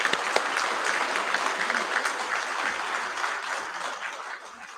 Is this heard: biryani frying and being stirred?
no